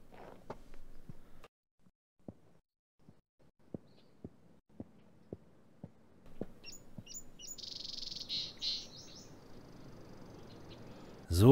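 A pigeon in the point-and-click game Gabriel Knight 2 gives a steady series of soft, evenly spaced calls. Faint room ambience sits underneath, and a brighter chirping burst comes near the end.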